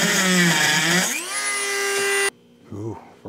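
A power tool cuts off the ends of threaded rod for a motorcycle tour pack wall mount, giving a loud, close, high whine that drops in pitch as it bites, then stops abruptly, followed by brief talk.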